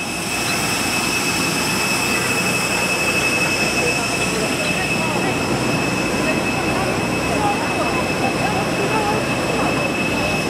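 A loud, steady airplane jet engine roars nearby at Kalibo Airport after landing, a continuous broadband rush with a high whine running throughout.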